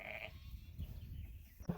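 Suffolk and Icelandic crossbred sheep bleating on a farm, a short call at the start followed by quieter background murmurs and a brief sharp sound near the end.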